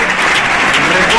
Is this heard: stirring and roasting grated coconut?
no